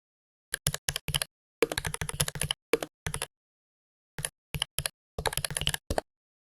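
Keys on a computer keyboard clatter in quick bursts of typing separated by short pauses, close and clear with no talk over them.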